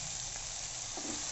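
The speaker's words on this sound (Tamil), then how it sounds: "இப்போ இந்த கேப்சிகம் நல்லா வதங்கிட்டே இருக்குது" Capsicum and masala sautéing in a pan for a capsicum paneer curry, a steady close sizzle and fry hiss running without pause through the whole short stretch, with no talking over it.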